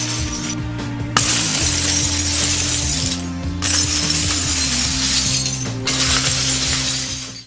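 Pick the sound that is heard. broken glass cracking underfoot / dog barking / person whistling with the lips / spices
broken glass cracking underfoot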